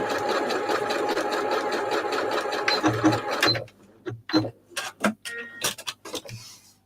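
A sewing machine stitches across rolled fabric scraps in a rapid continuous run, then breaks into short stop-start bursts and clicks as the work is turned.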